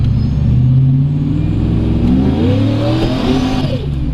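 An LS-swapped Chevrolet Trailblazer with boost revs hard, a loud close engine roar climbing in pitch, with faint tire noise as it pulls away.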